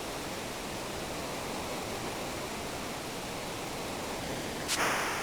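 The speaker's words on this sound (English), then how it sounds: "we're going to fall down this little waterfall here" A steady, broadband rushing of a small waterfall in the Final Fantasy VI game world fills the scene at moderate level, with a brief brighter splash near the end and no voices.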